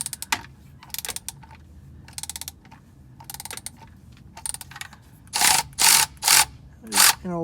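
Short bursts of ratcheting clicks come from a ratchet on a long extension loosening a bolt on a 2004 Ford F-150 4x4 front differential. The clicking is close and sharp, repeats in spaced bursts, and grows louder near the end.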